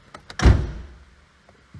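A Seat Leon Mk2 car door opens with a close mechanical clunk and latch release, followed by a brief rustle and a faint second knock near the end.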